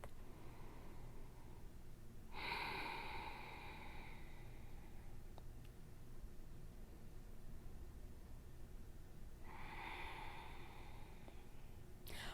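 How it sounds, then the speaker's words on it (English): Slow breathing during a yoga hip-strengthening pose, heard as two soft, airy breaths spaced several seconds apart over a faint steady hiss, with no talking. "just take note of what shows up for you. Full cycle of breath."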